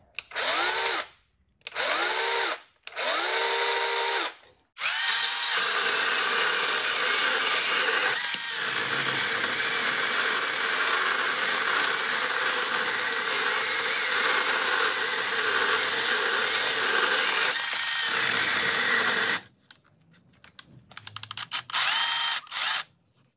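A Wosai brushless 20V mini chainsaw cuts through large-diameter dry wood, loud and close. Several short revving bursts come first, then one long sustained cutting whine that strains under load before ending in a few brief spurts.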